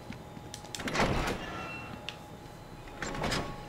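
A large door grinds open in the video game Batman: Return to Arkham, with a sliding, mechanical rumble that swells twice over a steady low ambient hum, moderately loud and with no talk over it.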